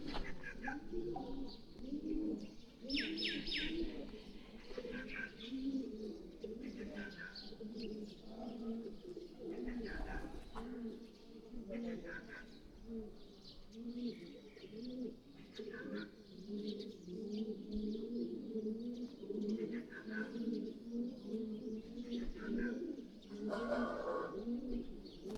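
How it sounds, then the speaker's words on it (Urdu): Pigeons cooing at Bahadur Baba shrine in Nowshera, several birds giving soft rolling coos in repeated low phrases close by, with occasional chirps and faint background voices. "کبوتر اپنی یوزل وائس کر رہے ہیں"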